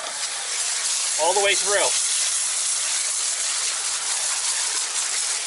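Auto Fanatic wheel cleaner foam sprayed from a wand into a wheel barrel and brake caliper area, a steady close hiss running throughout with a brief spoken phrase over it.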